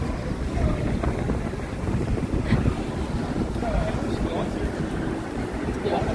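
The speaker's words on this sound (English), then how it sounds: "It is getting windy and cold." Gusty wind buffets a microphone outdoors on a cold New York City street, a continuous rough rumble and roar with faint background talk mixed underneath.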